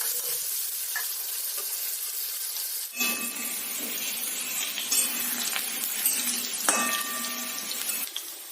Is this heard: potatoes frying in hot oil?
yes